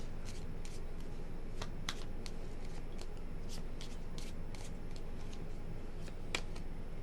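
Tarot cards shuffled in a steady run of crisp riffling bursts and soft slaps, close and fairly quiet over low background hum, no talking.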